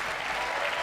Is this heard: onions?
no